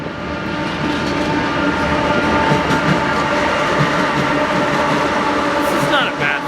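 A BNSF manifest freight train rolls past close by, a loud, steady roar of wheels and cars with rhythmic clatter that holds for the whole stretch before easing slightly at the end.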